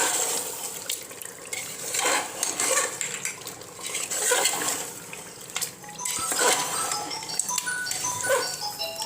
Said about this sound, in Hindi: दही ऐड कर रही हूँ। अच्छे से मिक्स कर लेना है।